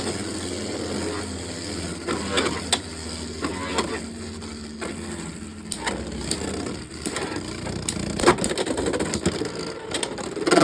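Beyblade spinning tops launched into a stadium and battling, including a Unicorn Sting top, giving a steady whirring rattle with repeated sharp clacks and scraping collisions close by, no talk.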